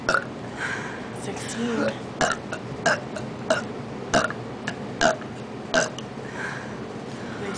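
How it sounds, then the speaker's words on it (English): Loud, close burps during a burping contest, a string of short throaty belches at fairly regular intervals with a voice speaking briefly between them. "Burps."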